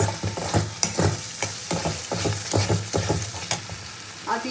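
Spice paste with turmeric and a little sugar fries in a pan while being stirred, making a close sizzle with repeated rhythmic scraping and stirring strokes over several seconds and no voices.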